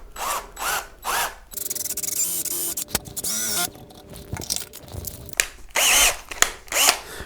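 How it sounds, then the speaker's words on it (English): Power drill with a long bit boring into a bass guitar body, a steady whirring run lasting a couple of seconds in the middle, bracketed by short bursts of tool noise and handling clatter, close and moderately loud. "I've got a really nice long drill bit to get this started"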